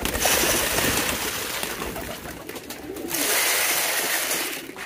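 King pigeons at feeding time, a dense chorus of overlapping cooing close by that runs steadily, dips briefly, then swells again, with no voices.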